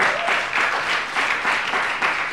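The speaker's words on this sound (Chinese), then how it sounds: "阿们，用掌声献给耶稣。" A church congregation applauding during a Saturday worship service, a dense, loud wash of clapping with a few swelling pulses that carries on without pause for the short moment.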